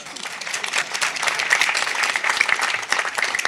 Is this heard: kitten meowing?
no